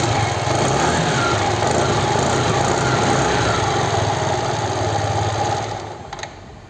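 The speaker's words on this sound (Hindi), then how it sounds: "तो अब इसका आप एग्जॉस्ट साउंड सुन सकते हैं।" An Aprilia Storm 125 scooter's 124cc single-cylinder engine runs loud and close with a steady buzzing exhaust drone, then eases down near the end.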